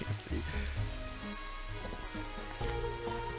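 Steady rain falling around a mausoleum in a Nancy Drew adventure game, a dense continuous wash of drops on stone with faint scattered ambient tones, no voices present.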